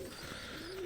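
Giribaj pigeons coo in a cage, one soft low throaty coo rising briefly, close and quiet, with faint room noise.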